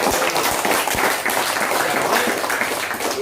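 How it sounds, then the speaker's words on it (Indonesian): Audience applause at an evening independence-day special event, steady crowd clapping filling the whole stretch with a few sharper individual claps standing out near the start. "Tepuk tangan dong."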